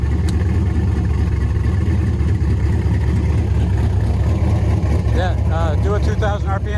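A 1996 Impala SS race car's LT1 V8 runs at a loud, steady, rumbling idle close by, with people talking over it toward the end.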